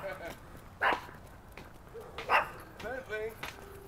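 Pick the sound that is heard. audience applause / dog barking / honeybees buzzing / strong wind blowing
dog barking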